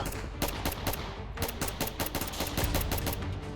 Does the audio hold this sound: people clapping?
no